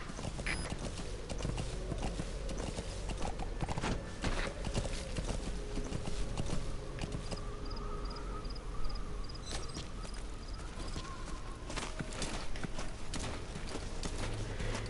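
Hooves of a horse in Metal Gear Solid 5 clip-clop at a steady gallop throughout, mid-loud over outdoor ambience with insect chirps and a faint repeating beep partway through.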